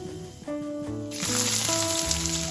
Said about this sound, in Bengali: পেঁয়াজটা তেলের সাথে ভালোভাবে একটু ভেজে নেব